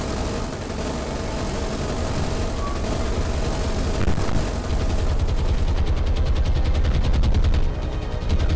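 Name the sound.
303 machine guns firing at armoured cruiser in video game War on the Sea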